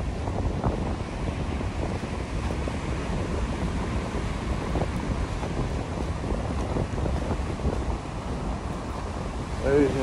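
Steady wind blowing across Mamaia beach on the Black Sea, a constant rumbling buffet on the microphone with surf washing underneath, loud and unbroken for the whole stretch.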